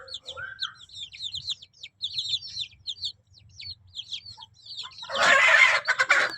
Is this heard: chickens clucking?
yes